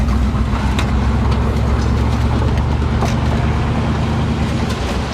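A 1979 GMC Caballero driving with no windshield, a loud steady roar of engine and road noise with heavy wind buffeting throughout and occasional light rattles.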